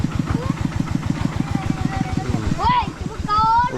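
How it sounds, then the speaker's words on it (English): Tractor engine running nearby on Don Det island by the Mekong, a loud, rapid, regular chugging idle that continues throughout while a voice talks over it. "And then you have like these tractor things here."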